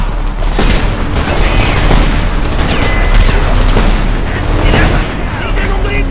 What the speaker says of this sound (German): Oh mein Gott, überall Handgranaten!